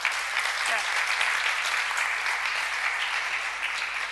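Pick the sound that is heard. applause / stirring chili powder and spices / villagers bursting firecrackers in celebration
applause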